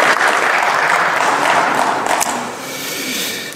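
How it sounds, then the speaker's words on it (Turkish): Applause in the Turkish parliament: a loud, dense wash of many hands clapping that fills the chamber throughout, easing slightly toward the end. "İyi alkışlasınlar Sayın Bülbül'ü."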